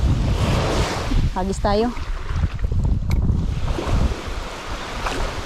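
Big ocean waves breaking at a beach during a fishing outing, a continuous loud wash of surf with wind buffeting the microphone and a brief voice speaking partway through.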